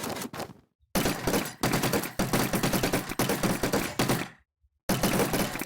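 AK-47 gunfire in the blocky shooter Minecraft Gun Strike: rapid automatic bursts, loud and close, broken by short silences between volleys.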